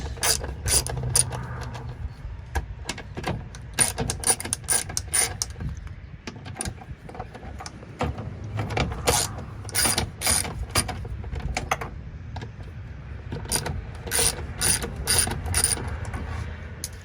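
A ratchet wrench removes the 8mm bolts on the lower fuel filter housing of a 2017-or-later 6.7 Power Stroke diesel truck, giving rapid bursts of close clicking separated by short pauses.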